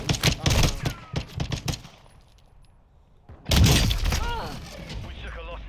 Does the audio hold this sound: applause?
no